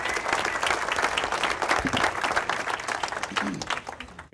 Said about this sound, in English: if you give them a round of applause for joining us this evening